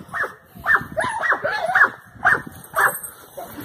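Dogs in a kennel yard bark and yip in short, repeated bursts, some whimpering between them, fairly close and loud with no speech over them.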